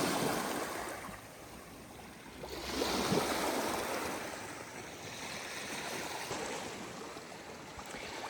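Water washing gently onto a sandy beach behind a house, a soft continuous wash that rises into one fuller surge partway through, with a light wind and no talking.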